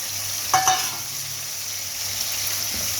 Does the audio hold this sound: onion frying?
yes